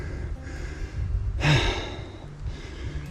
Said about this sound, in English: Breathing a little heavy